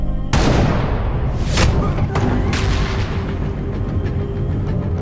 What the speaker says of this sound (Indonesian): Brandon dapat menghindar tembakan Yuki